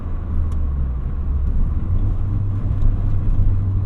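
A 1990 Nissan Pulsar GTI-R engine rumbles steadily from inside the cabin, a low droning hum that swells slightly as the car drives.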